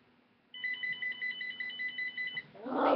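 A cell phone rings in repeating electronic trills, a steady patterned tone that runs for about two seconds after a quiet start, then gives way to a brief louder rustle or voice at the end.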